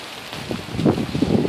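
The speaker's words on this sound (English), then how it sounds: "It's a hideous day today. Rain and nastiness." Steady rain on a dreary winter day, a soft broadband patter that swells and thickens over the second and a half, with no voices.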